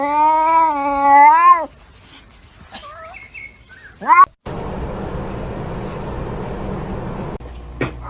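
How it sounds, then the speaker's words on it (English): A kitten gives a long, loud, wavering meow, followed by a few faint chirpy squeaks and another brief cry, then a steady background hiss. "Look at this little kitten."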